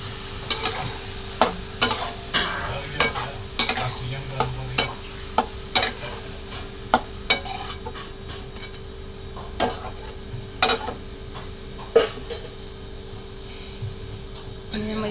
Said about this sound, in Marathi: आणि चला अशी मी भाजी धुवून घेतलेली चिकनमध्ये टाकून घेऊ बघा कांद्याची पात आपली. आणि असं सगळं मिक्स करून घेऊया.